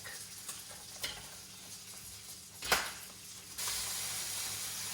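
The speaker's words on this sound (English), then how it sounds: "This bacon is quite thin, so it takes no time to cook, and look how crispy and delicious it looks like." Thin, very lean bacon sizzles and crackles steadily in a pan, with a few sharp pops and a louder hiss surge near the end, no talking.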